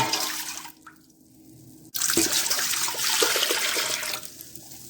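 White vinegar and apple cider vinegar are poured into a container while making hot sauce, giving a loud splashing gush that pauses briefly and resumes, heard close with no talk.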